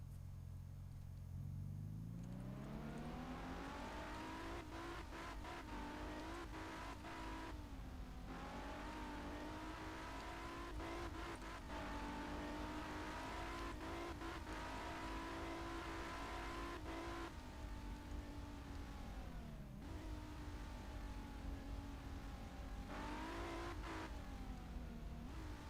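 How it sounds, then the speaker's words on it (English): Simulated car engine in a Unity video game, running without turbochargers: a steady engine drone that rises and falls in pitch through repeated revving and shifting, with no talk over it. "So here's how the game sounds without the turbochargers"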